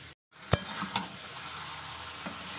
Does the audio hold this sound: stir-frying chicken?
yes